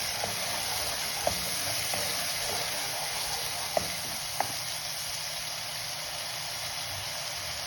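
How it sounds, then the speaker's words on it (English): Onions fry in a pan for an egg curry, a steady, faint sizzle under a constant background hiss, with a few soft clicks and taps from stirring scattered through. "The frying up of the onion is very important."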